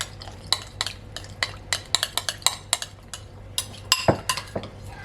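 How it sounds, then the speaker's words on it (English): Homemade chili sauce with crushed red pepper being stirred in a dish, giving a run of quick close utensil clinks and scrapes at an uneven rhythm with no talking. "So I'm gonna mix it or stir it."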